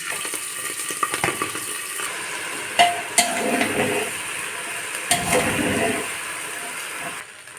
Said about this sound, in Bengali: এবার চালটাকে আমি ঢেলে দেব।